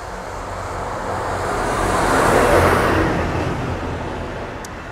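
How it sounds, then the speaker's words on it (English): A car passes along a village main road beside a cottage vegetable garden, a broad rushing sound that swells to a peak midway and fades, moderately loud with no voices. "Another vehicle."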